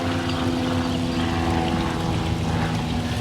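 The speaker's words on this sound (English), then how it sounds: "An airplane going by, guys on 4-wheelers." An airplane passing overhead outdoors, a steady broad rumbling drone with a low hum, continuous and fairly loud throughout, with no voices.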